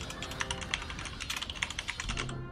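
Fast clattering keystrokes on a computer keyboard, typed in quick irregular bursts, sound close and steady after an Age of Empires match.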